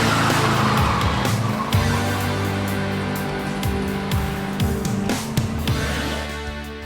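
An S10 truck powered by a 350 crate V8 roars hard under throttle while its tires squeal and skid in sweeping, wavering screeches, loud and close throughout.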